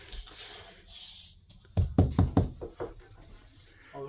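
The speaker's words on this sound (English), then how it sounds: "I always like to knock on stuff and see what's flimsy and what isn't" Knuckles rap on an interior panel of an RV at a show, a quick cluster of hollow knocks at close range followed by a few lighter taps.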